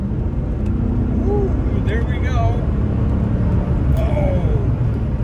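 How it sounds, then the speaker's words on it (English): A Mercedes-Benz CLK500 with a 5-liter V8 accelerates, its steady low engine rumble heard from inside the cabin under a man's brief speech. "you can hear the rumble of the V8 in the background"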